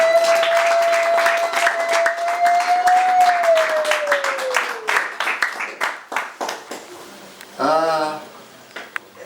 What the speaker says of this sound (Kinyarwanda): Nimugire muhomere Imana amashyi muyishimire.